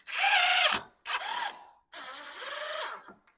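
A power drill driving 1.5-inch screws into PEX pipe greenhouse hoops: three close, loud bursts of whirring motor, each winding down in pitch as the screw seats, separated by short pauses.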